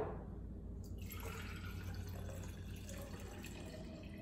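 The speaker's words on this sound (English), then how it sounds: "you're gonna pour some water" Water pours steadily into a large drinking glass, a continuous close splashing trickle with a short higher splash at the start and no talking.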